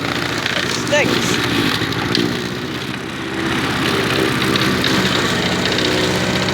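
A lawn mower engine runs loud and close at a steady idle, its coarse continuous drone briefly dipping before settling back to an even rumble.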